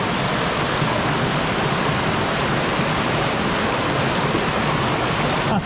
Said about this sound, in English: we'll just fill up our teapot with some water from the beautiful river